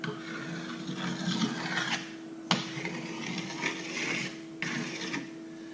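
A rough, rasping scrape repeats in long strokes, a metal file drawn steadily along a ski's edge, catching on a burr, with brief pauses between passes.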